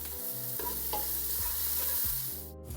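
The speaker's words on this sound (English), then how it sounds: "The onion, and just mix them up." Onion, turmeric and black pepper stirred together in a hot pan for a seafood chowder, a steady scraping stir with light sizzling, under continuous background music.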